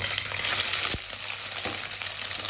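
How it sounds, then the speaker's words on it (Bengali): Boiled, squeezed soybean chunks fry in hot oil with a bright, continuous sizzle, one brief scrape of stirring cutting through near the middle. "এবার ওইগুলো তেলের মধ্যে দিয়ে একটু ভেজে নেব"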